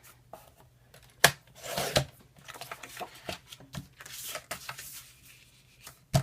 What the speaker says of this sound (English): I know my sheet is 12 by 12, so I'm going to cut this to 11 inches.